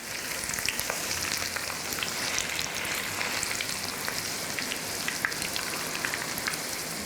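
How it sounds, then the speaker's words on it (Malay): A steady, dense crackling hiss of chicken frying in hot oil, with tiny pops scattered throughout, close and continuous, no voices. "Kita goreng sekejap je, jangan lama-lama, nanti ayam tu terlalu keras."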